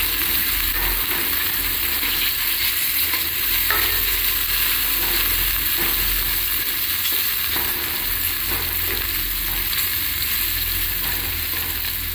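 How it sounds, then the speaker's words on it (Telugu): Ginger garlic paste stirred in an oiled frying pan, giving a continuous loud sizzle with intermittent scraping and clinking of a spoon against the pan, and no talk. "తీసేసుకొని ఈవెన్గా కలిపేద్దాం ఇవన్నీ."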